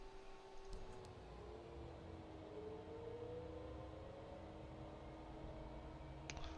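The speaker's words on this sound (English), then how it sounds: "Let's go ahead and start up number 2 here." A Citation business jet's number 2 engine spools up in a flight simulator game, a steady rising whine over a low rumbling drone that stays constant and moderately loud throughout, with no voices.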